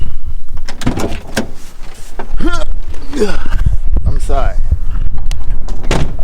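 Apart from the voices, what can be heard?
getting out of a low car, car door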